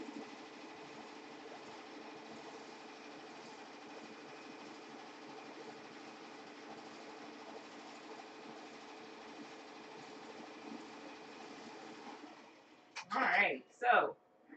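An embroidery sewing machine stitches an appliqué tack-down line as a steady, even mechanical whirr for about twelve seconds, then it stops and a few short louder knocks and movements follow.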